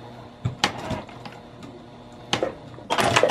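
A sewing machine back stitches near the end of a seam on a vinyl zipper pouch: short bursts of mechanical stitching at about half a second, two and a half seconds and three seconds, with quieter handling between them. No one speaks.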